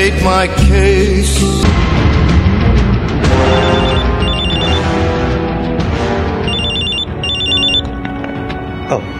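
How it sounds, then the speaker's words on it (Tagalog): A cellphone rings loudly with a repeating electronic ringtone pattern that sounds in short bursts over dramatic background music, with no talking. "Oh, ang cellphone ko."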